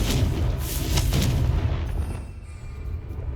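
Booming magical blast from the Confringo fire spell in Hogwarts Legacy, a burst of rumbling explosions that fades into quieter ambience.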